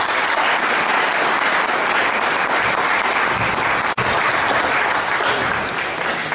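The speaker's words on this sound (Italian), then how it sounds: "a cui non può non andare il nostro applauso" Sustained audience applause at an Italian book presentation, a dense, steady wash of clapping from a large crowd lasting several seconds, with no speech over it.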